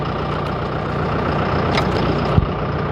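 A Peterbilt 386 truck idling in neutral with a steady, loud, low diesel rumble throughout, plus a brief clunk near the end.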